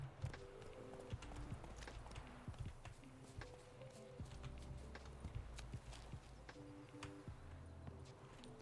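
Horse hooves clop at a walking pace in The Witcher 3: Wild Hunt video game, a steady uneven rhythm of close hoofbeats over a low background hum.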